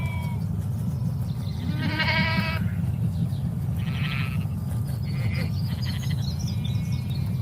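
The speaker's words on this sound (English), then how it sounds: "There's a mother sheep just standing, staring at us, and just been joined by her baby lamb." Sheep and lambs bleating outdoors in a grassy field, with a few short, wavering bleats at mid distance over steady low wind rumble, and a faint bird call in the background.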